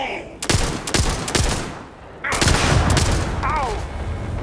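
Bursts of gunfire ring out in the space game Starfield: sharp shots near the start, a pause, then a louder sustained volley with a rising whine over the back half, fairly close and loud.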